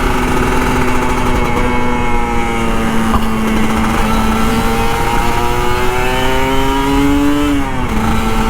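A Kawasaki Ninja RR 150 two-stroke motorcycle engine runs steadily and loud throughout, its pitch rising gradually as it revs up, then dropping sharply near the end before settling back.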